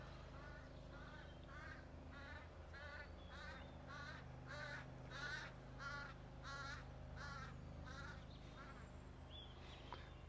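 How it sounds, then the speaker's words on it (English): A series of harsh, raspy caws from a crow-like bird, about ten evenly spaced calls over a low steady background hum, faint and somewhat distant. "I don't know if the mic picks up the strange bird noise, but it was a very strange bird noise."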